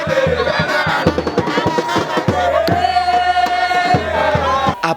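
A crowd roars and chants with rhythmic drumming to welcome the national president of the Congo Espoir party on arrival at the Nanumemba stronghold, loud, dense and continuous.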